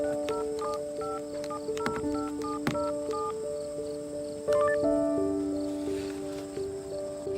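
A telephone keypad is dialed in a series of crisp tones, followed by a steady ringback tone carrying on for several seconds, clear and close with no talk over it.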